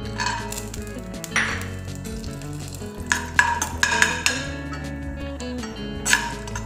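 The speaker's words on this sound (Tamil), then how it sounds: "இப்போ நான் முந்திரி சேர்த்துக்கிறேன்." Cashews frying in hot ghee and oil, a close steady sizzle broken by clinks and scrapes of a spoon stirring against the pan.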